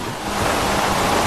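Water waves in GTA V, a loud continuous rush of surf and wash with wind-like noise, steady and close, no voices.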